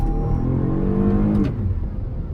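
A 2021 Toyota Highlander Limited in normal mode accelerates from inside the cabin, the engine drone rising in pitch and then easing off partway through, with no talking.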